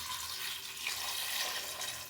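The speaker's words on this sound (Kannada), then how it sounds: "ಇವಾಗ ಸ್ವಲ್ಪ ನೀರು ಹಾಕ್ಕೊಳ್ಳೋಣ." Water poured into a pressure cooker holding raw peanuts, a short steady splashing gush, faint and close, lasting about two seconds.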